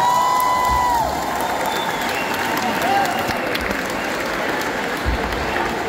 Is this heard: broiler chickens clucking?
no